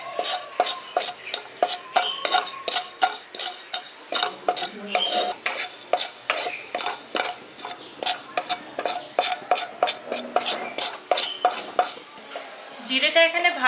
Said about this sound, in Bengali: এটা শুকনো কড়াই ভেজে নিচ্ছি।